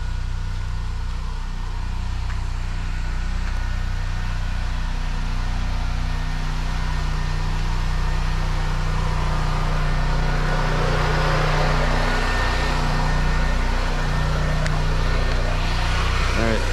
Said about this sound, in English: There's a generator running back here, so pardon the noise.